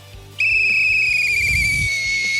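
A single steady whistle tone starts abruptly and holds for about two seconds, clear and high-pitched, close to the listener.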